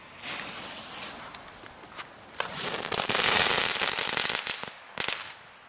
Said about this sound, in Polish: wielka kulka krakningowa